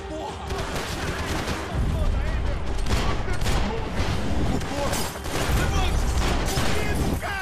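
Gunfire in Max Payne 3, a dense, continuous fusillade of shots with booming impacts close by, running under talk throughout.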